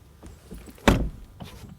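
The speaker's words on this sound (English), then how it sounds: "door closing sounds here with the Audi today, and then with the M4" A car door on an Audi or a BMW M4 shuts with one solid, loud thud, preceded and followed by faint latch and handling noises.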